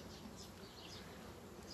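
Honeybees at an open hive during colony inspection, a steady dense buzz of many insects filling the space, close and continuous with no voices.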